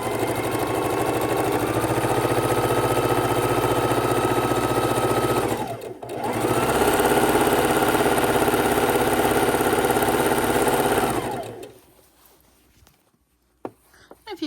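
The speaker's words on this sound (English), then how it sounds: "And we're going to sew them one after another." A sewing machine stitches quilt half-square triangles from 5-inch squares one after another in loud, continuous runs, with a brief pause in the middle before the motor winds down and goes quiet.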